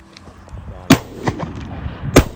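Two sharp shotgun blasts about a second apart during a goose hunt, loud and close, with faint outdoor background noise between them.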